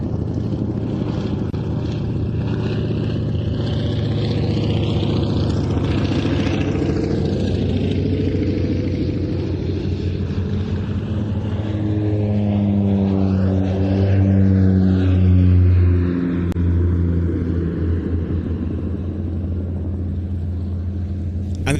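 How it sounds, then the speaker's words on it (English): An Antonov An-2 propeller biplane flies past at an airshow in Leszno, its loud, steady radial-engine drone and prop buzz shifting in pitch as it passes close by. "here comes Dr. Lee from the left in his Antonov An-2"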